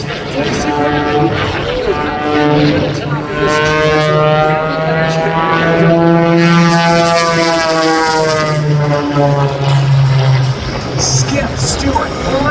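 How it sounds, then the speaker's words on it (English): A homebuilt aerobatic propeller airplane performs at the North Little Rock air show, its engine a loud sustained drone with rising and falling pitch as it maneuvers, while an announcer talks over it throughout. "Skip Stewart flying this airplane he built himself"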